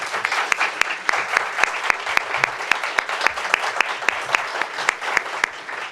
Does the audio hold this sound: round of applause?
yes